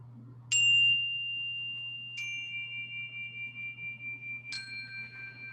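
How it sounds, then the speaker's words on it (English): Three soft metallic chime strikes from a meditation bell, spaced about two seconds apart, each ringing out with a long sustained tone over a low steady hum, with no talking. "So I'm going to do a little chime"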